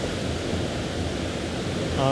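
Falls of Foyers waterfall near Loch Ness pours as a steady broadband rush of falling water, continuous and moderately loud, heard from near the base of the falls.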